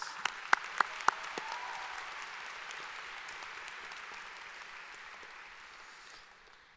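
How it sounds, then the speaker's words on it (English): A graduation audience applauds valedictorians in a steady crowd clapping, with a few loud close claps near the start and a gradual fade at the end. "So let's give all of our valedictorians another round of applause."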